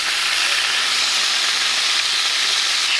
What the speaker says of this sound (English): make sure you sear the fat cap